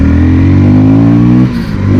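A 2025 KTM Duke 160 motorcycle engine revs hard with a loud, close, rising whine. It briefly dips as if shifting gear, then climbs again.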